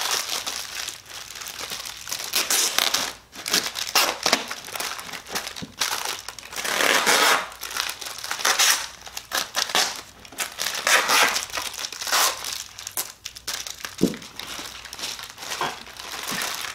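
Sheets of wax paper crunch and crinkle loudly underfoot as a child in socks slides around an indoor floor, pretending to ice skate, with bursts of crackling rising and fading in uneven strides.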